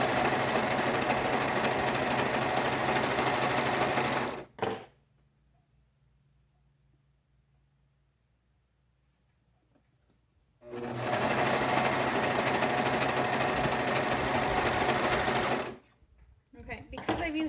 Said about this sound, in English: because I've used a serger